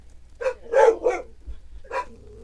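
Several close, loud barks from dogs indoors, a quick burst of three sharp yaps followed by a short pause and one more bark.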